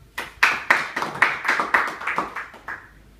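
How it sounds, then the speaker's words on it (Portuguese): Church congregation clapping, sparse and fairly faint: about ten distinct claps in a loose, uneven rhythm, tapering off. "dê uma salva de palmas"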